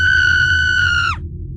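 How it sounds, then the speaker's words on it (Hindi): A woman's single piercing scream, steady and loud for about a second before it drops off sharply, set over a low rumbling ambience as a horror-story sound effect. "उसकी चीख निकल गई।"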